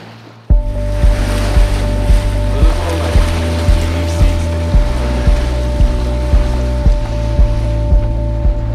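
A sailboat motors across the windless Atlantic under a steady engine drone, with waves washing against the hull and light wind buffeting the microphone.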